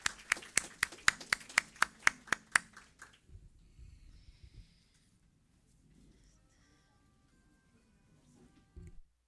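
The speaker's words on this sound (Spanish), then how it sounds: "La recibimos con un fuerte aplauso." At a medical conference session on obesity, an audience welcomes a speaker with a short burst of about a dozen sharp, evenly paced claps, which stop abruptly and give way to quiet room noise.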